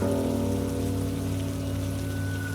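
Steady rain pours continuously as a backdrop to a horror story narration, a dense even patter layered over a low sustained hum, with no voice present.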